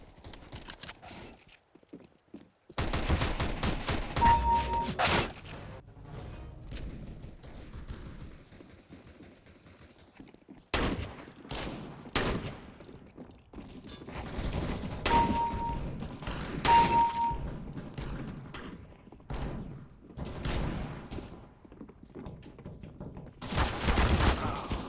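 Video game gunfire in a tactical shooter: repeated sharp shots and bursts come in clusters across the stretch, loud and close, with quieter gaps between volleys.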